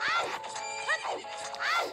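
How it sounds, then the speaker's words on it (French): Several whinnying horse neighs from the N64 game Zelda: Ocarina of Time, loud and close, with rising-then-falling cries at the start, a shorter one midway, and another full neigh at the end. "Il y a un cheval derrière."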